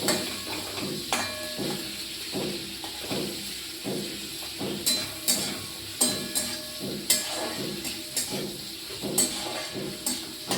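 Large cut shrimp fry in a pan with a steady hiss and sizzle, punctuated by regular knocks and scrapes of a utensil against the pan.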